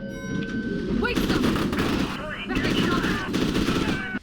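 Rapid bursts of automatic gunfire crackle through a shootout in the first-person shooter Fear 2, in two loud sustained volleys with a brief lull between them.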